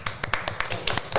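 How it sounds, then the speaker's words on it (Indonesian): Hands clapping in applause, requested by a host of a Malay-language entertainment show, heard as a short burst of sharp, irregular claps, fairly close and moderately loud, with no talk over it. "Tepuk tangan dong."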